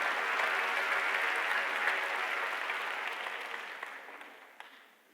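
A church congregation at Sunday worship claps together in a full, dense round of applause that holds steady, then gradually thins and fades toward the end.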